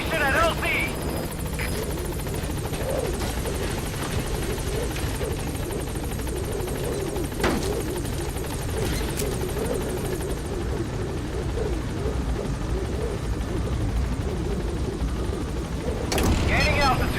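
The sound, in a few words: helicopter B-Quad arriving at landing zone, video game Metal Gear Solid V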